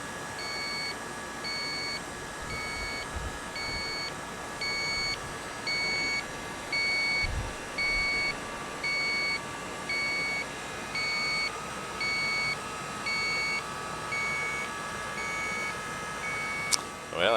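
Repeated electronic alarm beeps sound in a steady on-off rhythm during repair work on a Zero Zone commercial cooler that is not cooling, pulsing over a constant machinery hum, with a brief clatter near the end.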